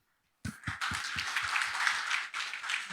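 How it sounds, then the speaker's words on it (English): Audience applause for a keynote speaker at the PDSEA 2024 conference, starting abruptly after a silent moment with a few distinct claps, then swelling into steady, moderately loud clapping that holds throughout. "Please give Dr. Paul a round of applause"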